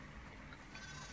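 A sheep bleats faintly in a flock that someone is counting, a thin wavering call sitting low and distant in a quiet background with no talking.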